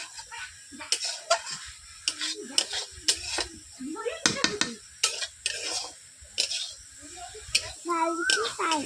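Utensils scrape and clatter as vegetables fry in a little oil in a wok amid a faint sizzle, with a voice talking intermittently throughout.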